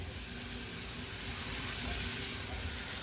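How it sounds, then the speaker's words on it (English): Polish sausage sizzling in a hot pan, a dense, steady crackle and hiss, close and continuous for a few seconds with no talking. "I'm just gonna start adding my sausage in that and let that start cooking"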